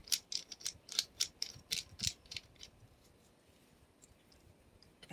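A hose connector being screwed onto a Sun Joe SPX2004 electric pressure washer gives a run of crisp, evenly spaced ratcheting clicks close up, fading into quieter scattered ticks and a final knock.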